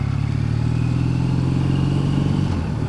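A 2014 Triumph Bonneville motorcycle engine throbs steadily while riding, a close, loud, even rumble with a lighter clattering note over it.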